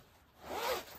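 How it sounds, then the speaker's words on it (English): A zipper on a casual jacket is pulled up in one quick, close rasping stroke that rises and fades within about a second. "They have zippers, so let's zip me up."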